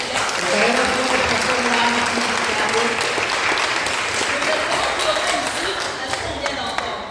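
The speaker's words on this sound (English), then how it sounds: "Encore une fois, applaudissez les filles." Audience applause at a church praise concert (Seventh-day Adventist group) fills the space with steady dense clapping throughout, with voices and cheering mixed into the crowd.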